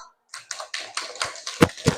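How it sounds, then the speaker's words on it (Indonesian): A class claps in a classroom after group 1 finishes its presentation: about eight sharp, evenly spaced claps in a quick rhythm, fairly close and clear, with no talking over them. "berikan tepuk tangan dulu."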